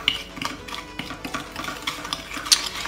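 Pancit Canton noodles being stirred on a plate with a utensil, giving soft repeated scraping and light clinks of cutlery against the plate, close and steady with a sharper clink near the end.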